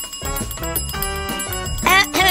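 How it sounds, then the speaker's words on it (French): A hand bell rung repeatedly in quick, bright strikes, loud and close, with its ringing sharpest near the end. "je vais utiliser la cloche"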